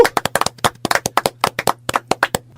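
A small group claps in a brief, uneven burst of about two dozen sharp, close hand claps, loud and dry, tapering off after two and a half seconds with no one speaking.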